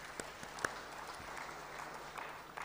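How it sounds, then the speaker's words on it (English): An audience at the launch of a strategic plan and election operation plan applauds, a faint, distant patter of clapping with a few sharper individual claps standing out over room hiss. "Let us give ourselves a round of applause."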